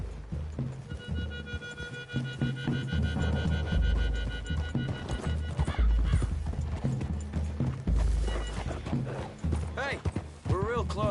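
Horses clip-clop steadily through a wooded clearing in Red Dead Redemption 2, with occasional whinnies, layered under game music and character dialogue.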